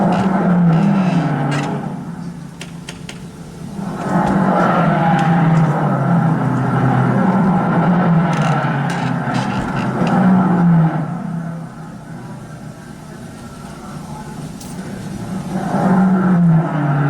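Race car at a tense pit stop with a four-person crew, its engine droning and surging in uneven waves, loud and close throughout, with short clattering bursts over the steady roar and no talk.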